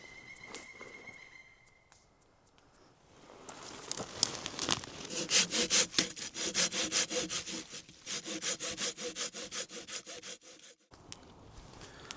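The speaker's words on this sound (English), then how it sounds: "listen to the sounds of some sawing" Hand saw cutting through firewood at a campsite in a steady back-and-forth rhythm of rasping strokes, close and fairly loud, after a few quieter scrapes at the start.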